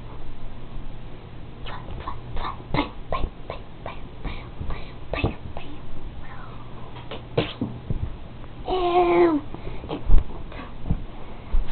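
A dog gives short, scattered whimpers and yelps during a chaotic indoor scuffle, with brief bursts of other noise and occasional voices.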